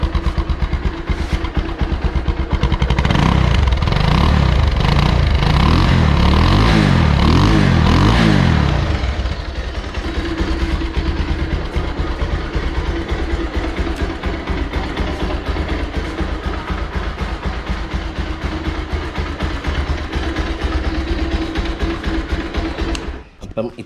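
A Bajaj Pulsar 220 motorcycle engine runs close by, revved with a rising, throaty exhaust note for several seconds before dropping back to a steady, slightly clattery idle that continues to the end.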